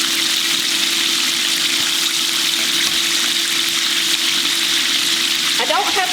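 Bone-in chicken pieces fry in hot oil in a skillet, giving a loud, steady, close sizzle with a faint constant hum beneath and a brief clatter near the end.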